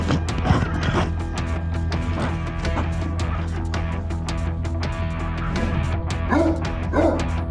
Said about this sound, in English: The dog spotted danger from afar and tried to warn people about the alligator in the water.